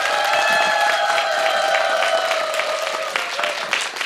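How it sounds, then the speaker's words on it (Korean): Steady applause and cheering from a Korean Christian music talk show audience, loud and continuous for a few seconds, with a sustained musical tone ringing underneath. "큰 박수와 환호로 응원해 드렸으면 좋겠습니다"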